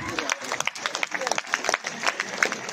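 Audience applause at a school's silver jubilee celebration for the organizing committee, scattered distinct claps mixed with crowd murmur and voices underneath, moderately loud and uneven.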